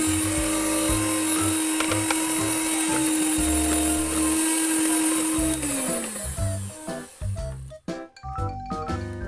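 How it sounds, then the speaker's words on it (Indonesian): An electric hand mixer beats egg whites into lidah kucing cookie batter with a steady loud whir that holds for several seconds, then slows and stops, leaving clinks and scraping in the bowl. "kita tambahkan putih telur dan akan kita kocok kembali"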